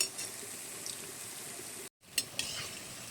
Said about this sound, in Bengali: বেশ সুন্দর করে লালচে কালার করে ভেজে নেব